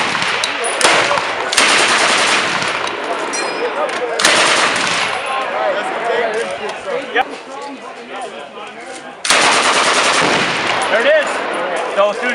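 Full-auto gunfire at an outdoor spring machine-gun shoot in Albany, loud and close, in sustained bursts with brief breaks and a strong final burst, while people talk nearby.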